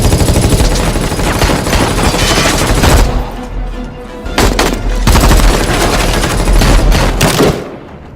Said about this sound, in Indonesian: melepaskan tembakan secara membabi buta, di mana baku tembak pun terjadi hingga ia kehabisan peluru